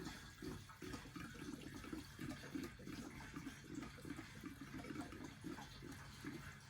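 Petrol poured into the fuel tank of an old Triumph Roadster gives a steady, faint trickling and gurgling stream that runs without pause.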